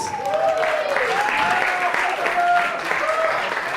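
Wedding guests clap steadily for the maid of honor, a dense sustained round of applause with a few whistles rising above it and a voice talking over the clapping.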